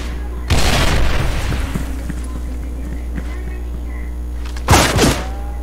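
Two frag grenade blasts go off in a video game, each a sharp, heavy thump with a short rumbling tail, the first near the start and the second near the end, over a low steady hum.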